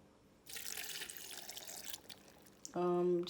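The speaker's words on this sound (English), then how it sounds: "And then add your water." Water from a tap is poured into a blender while making moin moin, a steady splashing fill lasting a couple of seconds, followed by a loud tonal hum.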